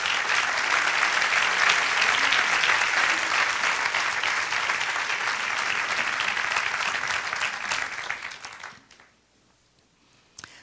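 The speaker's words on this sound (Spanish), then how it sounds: "Dale un aplauso al Señor." A church congregation gives a long round of applause, even and full for about eight seconds before quickly dying away into near silence.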